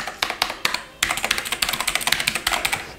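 A mechanical keyboard ordered from China, costing about $50, clatters under quick, uneven keystrokes: a few isolated taps, then a short pause and a fast, steady burst of close, crisp clicks.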